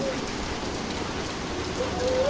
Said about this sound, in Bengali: বৃষ্টিটা খুব জোরে হচ্ছে